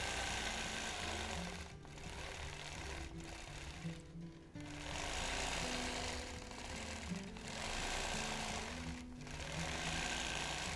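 Continuous machine quilting of feather designs, a loud, steady motor drone with rapid stitching and brief dips as the run of close stitches pauses and resumes.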